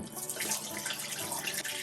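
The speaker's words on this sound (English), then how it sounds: "I'm going to pour it out, pour the developer in." Film developer liquid poured out in a steady, close splashing stream, like a faucet filling a sink, continuous for under two seconds with no talk.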